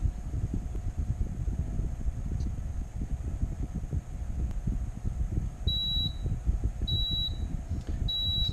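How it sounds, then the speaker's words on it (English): A Sofia Professional oven timer signals the end of its countdown with three evenly spaced high electronic beeps over a steady low fan hum. "the same timer or the same beep is going off at the end"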